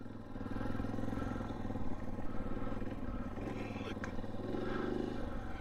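A 2023 KTM 500 EXC-F dirt bike with a Rekluse clutch runs and revs on a ride, its engine droning steadily at moderate distance with some clatter.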